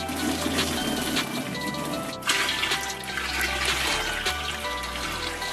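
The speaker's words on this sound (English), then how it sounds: "Now I'm put the hot water in here." Hot water pouring steadily into a household pot set up for dyeing shoes, a continuous loud splashing gush that runs for several seconds.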